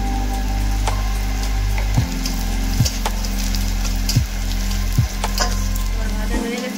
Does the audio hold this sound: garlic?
yes